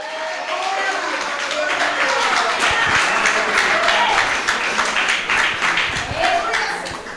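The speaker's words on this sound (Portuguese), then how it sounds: "Pelo amor de Deus, dá pelo menos um aplauso, diz pelo menos aleluia." A church congregation applauds during a Portuguese-language sermon, dense sustained clapping from many hands that stays close and fairly loud throughout with a slight fade at the end.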